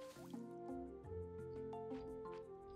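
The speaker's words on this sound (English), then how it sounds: "And let's water these guys a bit." Water from a water skin splashes and drips onto plants in the Roots of Pacha farming video game, a series of soft, bubbly liquid plops and squishes arriving in a loose rhythm, close and clean.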